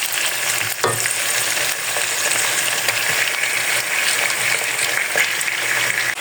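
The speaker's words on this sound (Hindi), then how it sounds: "चिकन के गोश्त को हम प्याज और लहसुन अदरक के पेस्ट में अच्छी तरह फ्राई कर लेंगे।" Chicken frying in onion and ginger-garlic paste, a loud steady sizzle close up throughout, with an occasional stir or clatter of a spoon in the pan.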